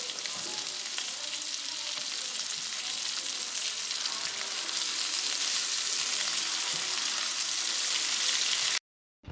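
Taco-seasoned pieces fry in a cast iron skillet with a steady, close hiss and crackle that continues until it cuts off abruptly near the end.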